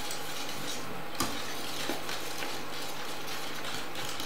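Parsley sauce gets whisked in a pan, a constant scratchy swishing with occasional sharp clinks of the whisk against the metal, close and fairly loud.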